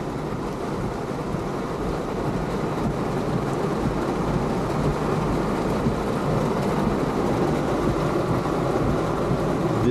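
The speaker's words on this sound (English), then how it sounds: "This is the rain." Steady heavy rain pours continuously with a low, rumbling roar of thunder beneath it, dense and close, with no voices.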